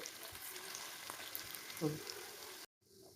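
Chhana tikka pieces fry in hot oil over low heat in a pan, giving a faint, steady sizzle with a slightly louder crackle partway through, cut off by a short silence near the end.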